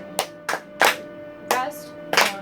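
Hands clap a rhythm in a music lesson, five sharp claps in an uneven pattern, close and clear, with a steady instrumental tone humming faintly underneath.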